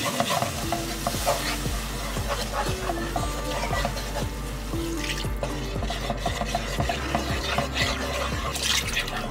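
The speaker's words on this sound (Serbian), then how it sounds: "Promešat ću kako bi se i senf otopio, pa sipati postepeno ovu tečnost sa buljonom." A spoon stirs mustard in a sizzling pan before broth goes in, making a rhythmic run of scraping strokes over a continuous frying hiss, close and without talk.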